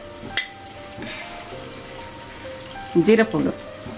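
Spice powders, including cumin powder, fry in hot oil for a Telugu fish pulusu, giving a soft steady sizzle with a brief clatter near the start and a louder burst of stirring toward the end.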